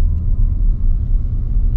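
Deep, steady exhaust rumble from a Jaguar F-PACE SVR in dynamic mode, a close, continuous low growl lasting under two seconds with no talking.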